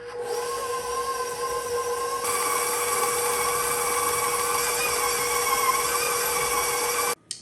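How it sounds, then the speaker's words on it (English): Electric mixer creaming sugar for chocolate chip cookie dough, a steady loud motor whine that steps up in pitch as the speed increases and then cuts off at the end, with no voices. "bring it up high speed to a higher speed, and we'll cream this sugar"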